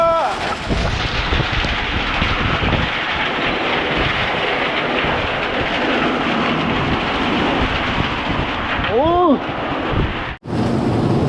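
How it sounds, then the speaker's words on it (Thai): A summer hailstorm batters a house with a continuous loud roar of heavy rain and hail, deep rumbles running underneath, and a brief voice near the end. "ันนี้ฝนตกแรงมาก"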